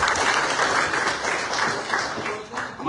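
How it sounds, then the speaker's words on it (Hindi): Loud, sustained applause from an audience honouring a committee at a gathering with Swami Hariprakash in Surat, dense clapping filling the room and swelling toward the end. "एक बार जोरदार तालियां पूरी कमेटी के लिए।"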